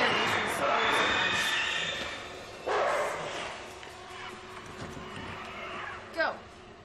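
Dog or wolf sounds from the horror video game Until Dawn, with game effects and a player talking over them throughout, plus a couple of sharper bursts partway through.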